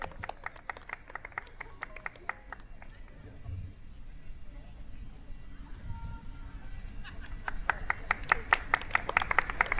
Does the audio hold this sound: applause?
yes